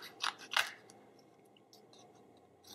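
Small scissors snip paper cutouts for a birthday card, two crisp close cuts near the start followed by quiet rustling and a faint final snip, with no talking.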